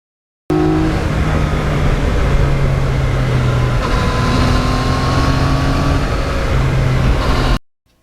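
A 2020 Yamaha MT-09 motorcycle ridden along a road by the Hudson River, its engine droning steadily and close with gear-like pitch shifts and wind rush, starting abruptly and cutting off at the end.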